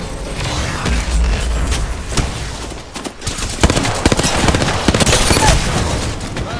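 Apex Legends gunfire rattles in loud, dense bursts of rapid shots and booms, with a short lull near the middle before heavy firing resumes.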